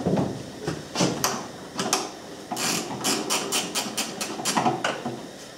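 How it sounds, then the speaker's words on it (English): Craftsman ratcheting wrench removing the cover bolts from a Sno-Way snowplow electric motor, close, fairly quiet clicking strokes in uneven short bursts. "if you don't have a set of these ratcheting wrenches from Craftsman, be sure to order some for your birthday."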